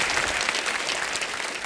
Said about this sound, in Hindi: जोरदार तालियां हो जाए मेरे भाई के